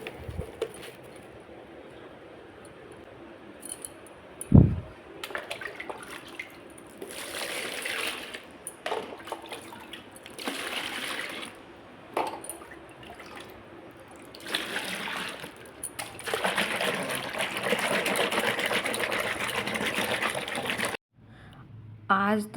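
Clothes being washed by hand with water at home, a continuous splashing, sloshing and trickling with bursts of heavier swishing and a sharp thump early on, close and moderately loud.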